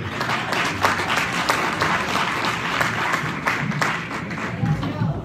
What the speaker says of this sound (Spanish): Vamos a darle una ofrenda de aplauso al Rey.